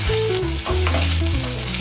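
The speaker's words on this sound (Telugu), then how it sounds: "వేసుకొని కలుపుకోవాలి. కొద్దిగా కరివేపాకును కూడా వేసుకోవాలి." Curry leaves dropped into a hot pan and stirred while cooking a jowar recipe: loud, continuous sizzling and frying with scraping stir strokes, close up and without speech.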